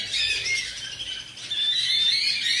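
A lutino pet bird lets out shrill, sustained squawks at close range, two harsh calls with a short dip between them, over a quiet room.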